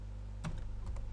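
A computer keyboard is typed on briefly, a few quick close key clicks in a small burst over a low steady hum, no voices.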